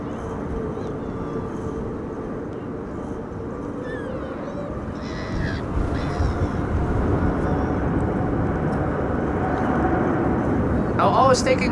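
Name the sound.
Singapore Airlines A350 taking off at Schiphol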